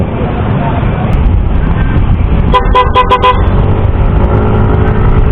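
A Toyota pickup custom-built as the TDD Night Ranger blasts its aftermarket horn in a quick burst of four or five loud, closely spaced honks, heard over steady road rumble and traffic noise.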